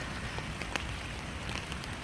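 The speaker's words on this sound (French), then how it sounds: "C'est du bien la pluie." Steady rain patters outdoors as a soft, even wash of drops with a few brighter taps standing out, continuous and moderately close, with no voices.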